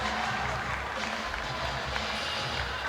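A crowd at a para swimming race applauds in a steady, diffuse wash of clapping and cheering, with a commentator talking over it throughout.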